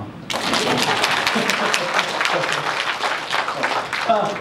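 An audience applauds at a formal speech, with dense, even clapping that starts abruptly and holds steady for several seconds.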